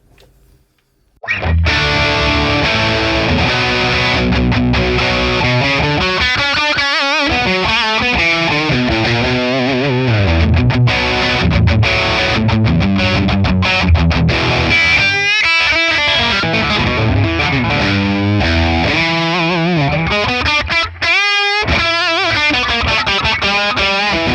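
Les Paul electric guitar played through a ToneX ONE high-gain amp model rings out loud and distorted, with sustained chords and riffs for most of the stretch, separated by a couple of brief stops.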